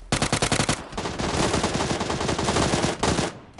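Rapid automatic gunfire in PUBG on PS4 Pro, a loud close burst of machine-gun shots that pauses briefly and then resumes as a sustained rattle lasting several seconds.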